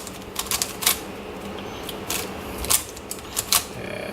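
A MoYu Crazy YiLeng puzzle cube being turned, with quick, light plastic clicks and clacks coming in irregular bursts, close up and fairly quiet.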